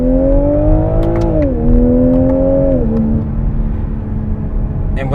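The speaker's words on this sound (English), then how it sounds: "And with that inline with the inline 6, it does sound pretty damn good." A 2020 Toyota Supra's inline-six with an 8-speed automatic hums loudly from inside the cabin, its engine note stepping up in pitch with each paddle downshift, then settling into a steady drone.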